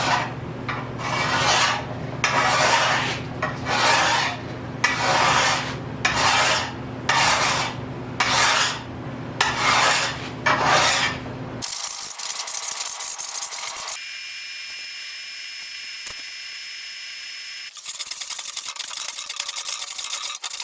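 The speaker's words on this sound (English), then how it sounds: "I'm just gonna do some rough work right here and just finish cutting these bevels in." A Japanese sword blade being hand-filed to cut its bevels, with about a dozen rhythmic rasping strokes, close and loud, followed by quieter scraping and handling noises.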